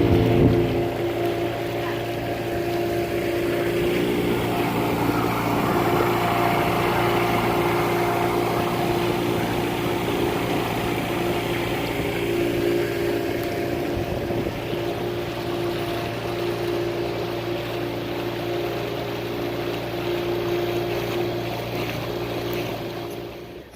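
A motorized dinghy loaded with groceries runs across the water toward a moored boat near Carolina Beach, North Carolina, its outboard droning steadily and close, with wind and water noise rising and falling slightly.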